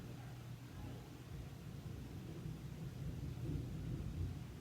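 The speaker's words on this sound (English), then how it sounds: "But y'all hear that thunder?" Distant thunder rumbling outside during a storm, a low continuous roll with swelling loudness, faint and far off indoors, with no talking.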